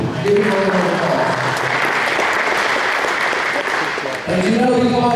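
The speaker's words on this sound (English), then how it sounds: "Give him a round of applause." Steady applause from the audience at a Laurens County Touchdown Club meeting honoring a high school player, a dense wash of clapping that dips briefly before a voice starts speaking at the end.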